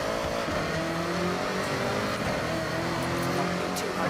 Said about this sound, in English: I just like the sounds of the engines in this game